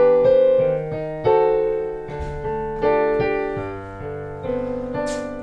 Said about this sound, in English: playing at the Edinburgh Organ Studios, playing on a much bigger keyboard than he would ever normally play